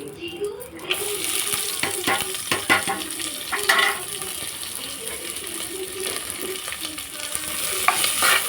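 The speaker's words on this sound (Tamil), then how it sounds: "நல்லா வதங்கட்டும்." Ingredients for biryani sauté in a pan, with steady sizzling and repeated scraping stirs of a utensil, close and fairly quiet throughout.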